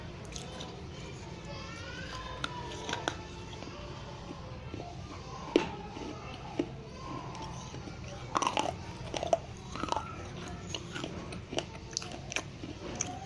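Close, crisp crunching and chewing of a crunchy snack, with irregular bites and crackles over a quiet room, with soft background voices now and then.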